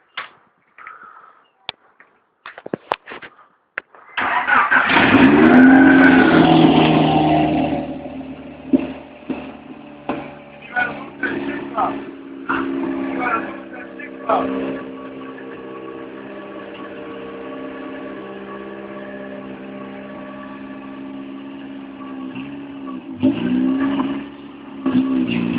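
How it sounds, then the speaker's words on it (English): A car's engine starts and runs for the first time, revving loudly up close before settling into a steady running drone as the car begins to move, with clattering and a brief rev near the end. "first time starting the car and moving it"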